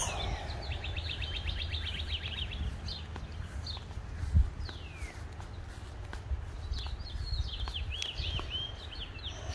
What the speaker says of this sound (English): I can hear lots of birds.